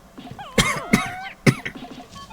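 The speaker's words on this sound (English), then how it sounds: "I have a cough, so it's not looking so good." Several sharp coughs from one person, close by, spaced irregularly over a couple of seconds, with faint background chirps from the video game Pikmin 2 between them.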